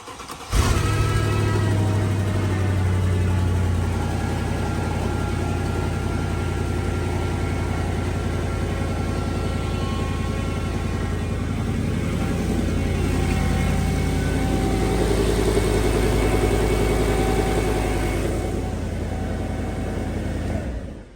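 Mercedes E-Class engine cranking and catching, then settling into a steady, loud idle close by that runs continuously for about twenty seconds, with a slight rise in revs partway through.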